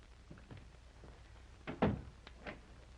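A door is handled with a few soft knocks and rattles, then a louder thunk, a short creak and a final bump, in a quiet interior on a ship.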